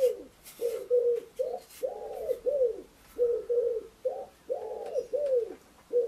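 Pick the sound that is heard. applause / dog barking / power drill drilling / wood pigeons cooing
wood pigeons cooing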